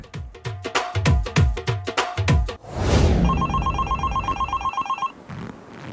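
A telephone rings with an incoming call, its bright trilling bell repeating steadily for a couple of seconds after a run of loud, rhythmic thumping beats.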